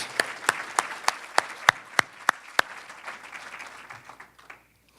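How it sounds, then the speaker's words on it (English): Applause rises at an Educator of the Year awards ceremony for the Rising Stars honorees: a crowd's steady clapping with a few sharp, close individual claps standing out, tapering off and fading to quiet by the end. "How about another round of applause for Rob, Karen, and Lindsay"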